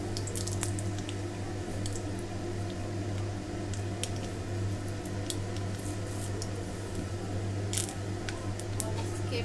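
Curry leaves go into hot oil where mustard seeds are already popping for poha. A steady close sizzle runs throughout, dotted with scattered sharp crackles and pops.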